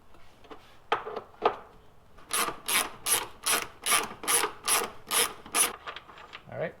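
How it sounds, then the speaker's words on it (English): A breaker bar working a 17mm rear shock bolt on a first-generation Honda Pilot, a few irregular clicks and then a steady run of about ten rhythmic ratcheting rasps, close up. "I'm going to go ahead and use the breaker bar to get this started."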